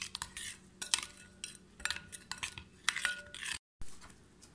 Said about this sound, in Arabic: بنحرك هاي التتبيلة، بنتبل فيها الدجاج وبنخليه يرتاح